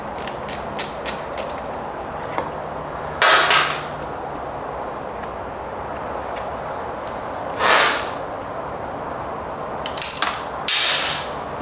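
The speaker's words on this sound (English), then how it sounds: "take a 10mm wrench or ratchet, and go ahead and get this loose." A ratchet wrench works loose a 10mm lock nut on a motorcycle's folding lever. Quick, sharp clicks come up close, followed by a few louder scraping, rasping bursts spaced apart, with no speech.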